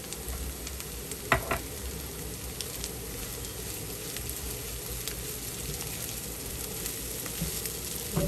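Potato filling for loaded baked potatoes fries in a pan with a steady, close sizzle and crackle, joined by a couple of sharp clinks of a utensil against the pan early on.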